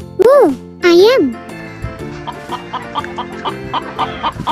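Chicken clucking, likely a toy or imitation rooster sound, comes in two loud bursts with sweeping harmonic calls at the start, then fades into quieter busy background sounds with light tinkling.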